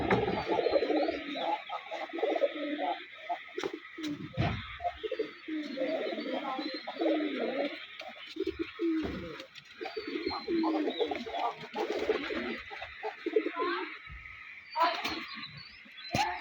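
Domestic desi crossbred pigeons, a flock of about thirteen or fourteen pairs kept in a loft, coo in a steady, soft, overlapping murmur with light background noise.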